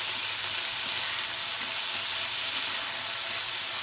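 Ground paste of white sesame, peanuts and green chilli with a little sugar sizzling steadily in a frying pan while being stirred for a vegetarian ridge gourd and lentil-dumpling curry, a close, constant fry hiss with no voices.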